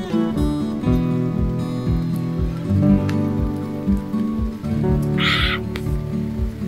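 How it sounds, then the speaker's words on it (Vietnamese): Heavy rain pours down on an island campsite, a steady dense patter with repeated dripping plinks over a constant wash, continuous and close throughout. "Trời đang mưa rất là to"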